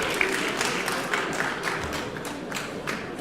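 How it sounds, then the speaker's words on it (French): An audience at a local sports awards evening claps for a golf champion, a steady moderate patter of many hands that carries through without pause. "on peut l'applaudir"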